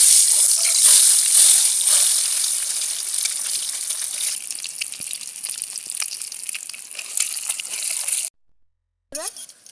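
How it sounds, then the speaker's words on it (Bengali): Eggs coated with salt and turmeric frying in oil left from browning onions, a loud bright hiss and sputter that runs steadily, then cuts off sharply near the end before a brief return. "বেরেস্তার ওই তেলে ডিম ভেজে নেব।"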